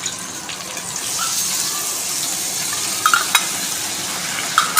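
Bitter gourd frying in a pan as a little water is poured in, a loud hissing sizzle that swells and holds steady, with a few faint utensil taps near the end.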